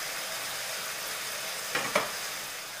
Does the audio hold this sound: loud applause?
no